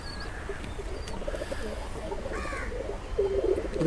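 Racing pigeons coo repeatedly nearby, low throaty calls against a background murmur, with a brief higher chirp in between.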